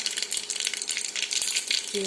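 Cumin seeds and mustard seeds crackle and pop steadily in hot oil inside a pressure cooker, a dense close sizzle of rapid small spits lasting throughout.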